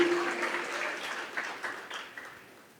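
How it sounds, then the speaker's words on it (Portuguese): Congregation applauding the Lord during a church service, a brief, moderate burst of clapping with a few distinct claps that gradually fades away. "Você pode aplaudir o Senhor"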